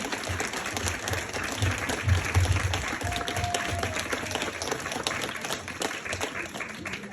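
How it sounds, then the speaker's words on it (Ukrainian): Audience applause fills a hall at a creative evening honoring a folk craftswoman, steady and sustained clapping from a large crowd throughout, with a brief faint tone partway through. "Ваші оплески."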